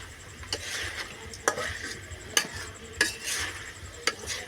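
Chopped onion and garlic fry in a pan with braised meat, a steady sizzle under repeated sharp clinks and scrapes of a spoon stirring against the pan, close and moderately loud, no talking.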